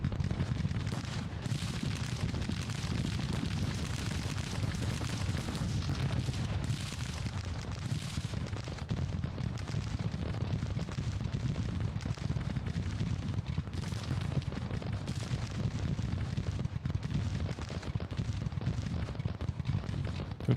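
Rumbling, continuous battlefield din from Grand Tactician: The Civil War, with steady low booming of artillery fire rolling on throughout, heavy and dense rather than distinct separate shots.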